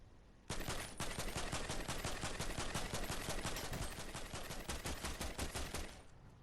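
Automatic gunfire from the video game Fortnite blasts in one long, loud, rapid burst of about five seconds, starting abruptly and then tapering off, with no talking.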